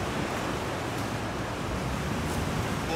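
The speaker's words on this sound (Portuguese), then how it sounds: "the water goes in and comes out with a huge noise" Heavy ocean surf on the Portuguese coast at high tide with a big swell, a continuous loud roar of water surging in and out with no pauses or voices.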